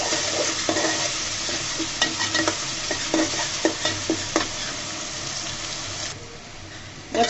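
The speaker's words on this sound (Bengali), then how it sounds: "একটু কষিয়ে নেব যেন কাঁচা গন্ধটা চলে যায় আদা রসুন পেঁয়াজের।" Cumin, ginger, garlic and onion sauté in a pan for a chicken and new potato curry, a close sizzle broken by a run of sharp spatula scrapes, then fading quieter near the end.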